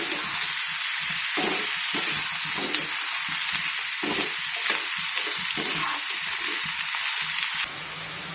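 Pumpkin pieces and curry leaves sizzle in oil, a close, continuous hissing crackle with rhythmic scraping strokes of stirring, easing slightly in the final second.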